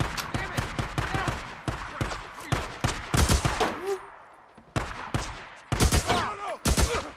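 Gunfire in the video game Days Gone, rapid bursts of automatic fire and single shots mixed with lulls, loud and close, with a shouted voice briefly among the shots.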